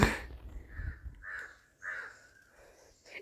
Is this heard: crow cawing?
yes